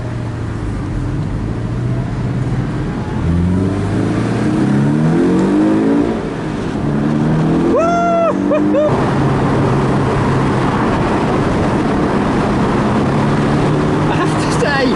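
Porsche 718 Boxster flat engine accelerating hard in Sport Plus with the roof off on an open road, revs climbing and dropping through gear changes, loud and close with wind rush, a brief whistle-like tone partway through.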